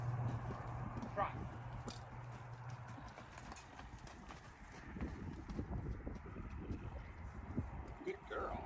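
A saddle donkey trots with a steady, quick clip-clop of hooves in the mid-distance, with people talking over it.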